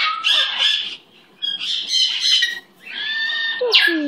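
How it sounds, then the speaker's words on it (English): A pet bird squawks loudly and close up in three bright, raspy bursts separated by short pauses, then ends with a sharp, sliding final call. "Where's my pretty bird?"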